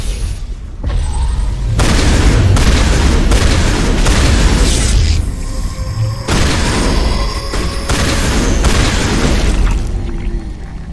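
Loud, sustained explosions and rumbling blasts from the video game Mass Effect, with heavy low-end booms layered over one another almost continuously, alongside faint game sound effects.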